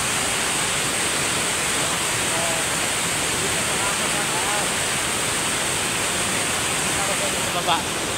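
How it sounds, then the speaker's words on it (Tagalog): A waterfall in Dumalinao, Zamboanga del Sur, gives a steady, loud, broadband rushing roar heard up close, with faint voices in the background. "Ito, pagkanto namin ng waterfall."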